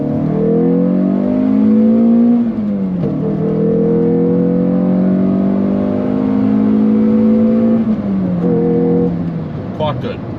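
Peugeot 306 GTi-6 with a 2-litre engine pulling through the gears, its steady engine note rising under load, dropping at each shift and climbing again, loud and close from inside the car.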